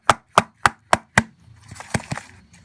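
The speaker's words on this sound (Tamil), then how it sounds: "பேட்டரை வந்து ஃபில் பண்ணிவிட்டு நல்லா வந்து டேப் பண்ணிக்கோங்க" A cake tin filled with Christmas cake batter is knocked five times on a counter in a quick, even rhythm of sharp thuds, followed by a few softer, irregular taps.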